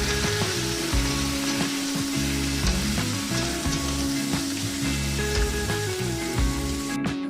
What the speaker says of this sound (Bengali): এদিকে আমি এই পেঁয়াজ আর টমেটো ভাজা তেলের মধ্যে দিয়ে দেব চিংড়ি মাছ